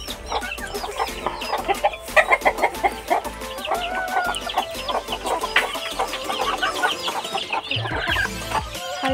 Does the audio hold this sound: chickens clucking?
yes